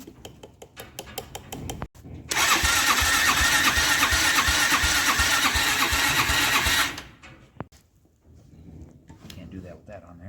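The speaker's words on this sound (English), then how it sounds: "what we're going to do is jump the solenoid in order to engage the starter" A Kymco Mongoose 250cc quad cranks loudly and steadily for about five seconds as its starter is engaged by jumping the solenoid, the engine trying but failing to fire, with short clicks and speech before and after.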